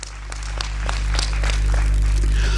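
An audience applauds the volunteers at a rhythmic gymnastics competition opening ceremony, a broad wash of clapping that swells and holds steady, with a low hum underneath.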